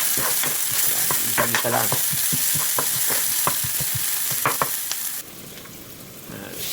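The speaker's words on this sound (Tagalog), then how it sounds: "Combine na natin ang bawang at sibuyas." Garlic and onion sizzle loudly in a hot pan for pork menudo while a spoon scrapes and stirs. A voice speaks briefly over the frying, and the sizzle drops to a quieter hiss toward the end.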